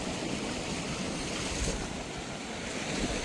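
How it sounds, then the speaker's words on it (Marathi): Sea waves roll onto a shore at night while strong wind buffets the microphone, giving a continuous rough roar of surf and gusts, fairly distant and steady, with no voices. "लाटा वगैरे फुल आहेत हवा जास्तच आहे"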